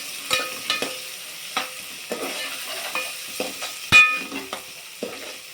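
Ginger, garlic and turmeric frying in oil in a pan, with a soft background sizzle broken by repeated scraping and clinking strokes of a spoon against metal, close up, with one louder clank midway.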